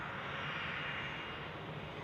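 A Cessna Citation business jet's engines roar steadily, broad and fairly distant, at Zurich Airport.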